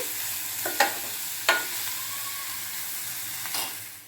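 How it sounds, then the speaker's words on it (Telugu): Green chillies frying in a pan on a low flame for egg fry: a steady soft sizzle with a few sharper crackles and spits, close by, with no talking. "పచ్చిమిర్చి వేసాక మంట సిమ్లో పెట్టుకుందామండి సిమ్లో పెట్టుకొని వేపుకుందామండి"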